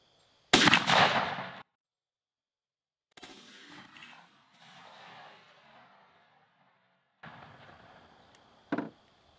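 A Franchi Affinity shotgun fires a Dakota Country load through a Patternmaster Black Mamba choke during patterning. One loud, close blast opens the clip, followed by quieter rustling and a brief sharp click near the end.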